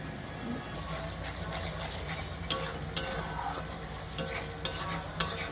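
Potato and red spice masala frying in a pan for a paneer dish, a steady close sizzle with scraping stirs and a few sharper clinks of the spoon against the pan.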